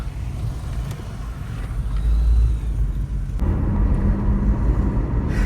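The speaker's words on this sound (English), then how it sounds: "Today I am driving through the suburbs of Kampala City." Car driving through the suburbs of Kampala, with a steady low road rumble and engine drone throughout that thickens in the second half, with no talking.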